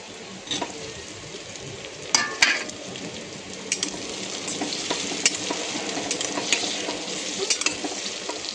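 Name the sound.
ginger, garlic and onion frying in a pan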